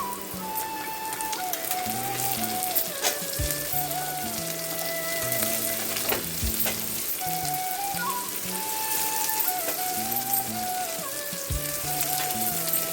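Chopped vegetables frying in a pan, a steady hiss and crackle running continuously under faint background music, with occasional louder pops and clicks.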